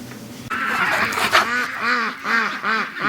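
Ducks at a creek quacking loudly in repeated bursts, several calls in quick succession close by after a brief quieter start.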